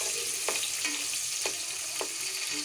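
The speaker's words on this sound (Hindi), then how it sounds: "इनको हम गोल्डन फ्राई कर लेंगे" Sliced onion fries in two cups of hot oil, a dense continuous sizzle with a few soft stirring knocks at regular intervals, close and alone without voices.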